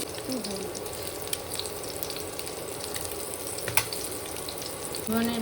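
Steady crackling sizzle of potatoes frying in oil, continuous and close, with a few sharper clinks and a louder hiss near the end.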